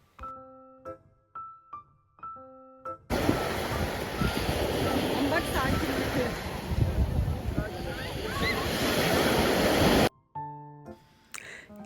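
Steady roar of sea waves and wind for several seconds, loud and close, with brief bursts of a melodic tone before and after.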